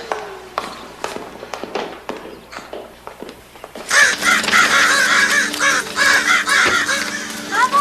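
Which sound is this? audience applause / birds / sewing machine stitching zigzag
birds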